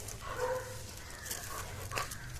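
Aiko, an excitable dog on a morning walk, gives a few short, faint barks and yips in the distance. They rise above quiet outdoor background noise, and no one speaks.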